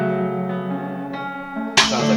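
A layered counter melody in an FL Studio beat: sustained synth tones in a steady pattern, shifting notes about every half second, with a bright noisy burst entering near the end, loud and close with no talking.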